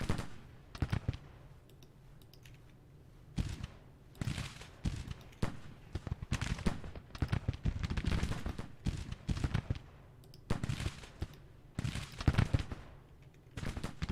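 Rifle fire in a Civil War strategy battle from Grand Tactician, with Mississippi rifles and muskets: dense, irregular crackling volleys and scattered shots, steady throughout with brief louder bursts and some rumble beneath.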